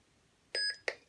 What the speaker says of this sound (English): you hold down the auxiliary button until you hear a beep, and then the next sound font will